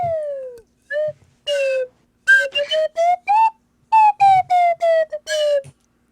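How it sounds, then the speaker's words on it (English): A slide whistle plays a tune in a string of short, separate pitched toots, some sliding up or down, each clear and close with gaps between them. "I got a slide whistle."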